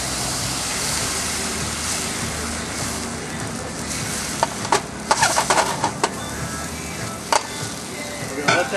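Salmon in a super hot pan with a splash of Midori liqueur, sizzling steadily and loudly, with sharper crackles and pops growing more frequent toward the end.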